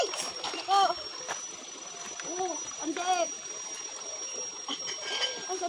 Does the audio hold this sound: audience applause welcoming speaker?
no